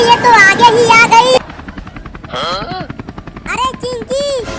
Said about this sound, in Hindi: वो देखो हेलीकॉप्टर उड़ रहा है।